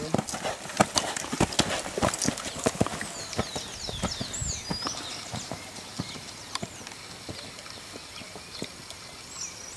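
A Lusitano horse's hooves clip-clop in an uneven, busy rhythm on hard ground as it performs a pirouette, fairly close, with faint chirping in the background.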